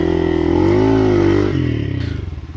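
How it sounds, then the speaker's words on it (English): A Hero Xpulse motorcycle climbing a steep dirt trail, its engine loud and close, revving and straining with rising and falling pitch before dropping to a rougher, lower chug. "I'm not going to get off the bike and I'm going to ride it through"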